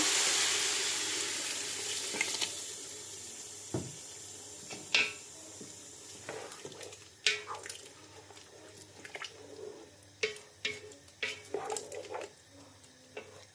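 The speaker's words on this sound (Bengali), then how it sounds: "এবার আমি পানি দিয়ে দিব।" Water is poured into a pot of frying rice for soybean biryani, a bright rushing splash at first that gives way to scattered sizzling pops and a few clinks as it settles.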